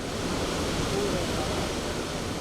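Waterfall on a West Virginia trail, a dense, loud, unbroken rush of falling water close by, steady from start to finish with no other sounds standing out.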